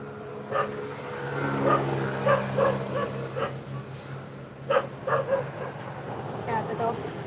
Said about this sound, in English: Yeah, the dogs are noisy.